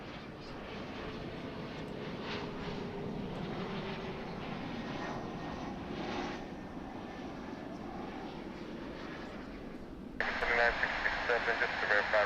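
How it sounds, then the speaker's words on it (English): Broadband aircraft engine noise at DFW International Airport rumbles steadily under a faint voice, then near the end a crackly radio transmission cuts in more loudly. "turn up the natural sound, and let you listen to the sights and sounds of DFW"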